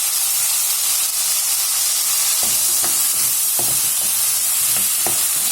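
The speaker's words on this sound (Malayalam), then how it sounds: "അത് കഴിഞ്ഞിട്ട് ഈ ചുണ്ടക്ക ആദ്യം വറക്കാം." Oil sizzles and hisses steadily as turkey berries fry, with a few sharp clinks of a utensil stirring the pan partway through.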